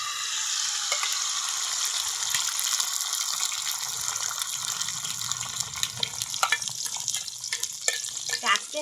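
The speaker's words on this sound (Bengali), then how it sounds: "আর এই যে মাছের ডিমগুলো যে নিয়েছিলাম ওইগুলো এখন আমি তাওয়ার ভিতরে দিয়ে দিব" Fish roe frying in oil in a flat pan, with a steady sizzle and hiss plus intermittent scraping and stirring clicks that grow busier toward the end, close and moderately loud.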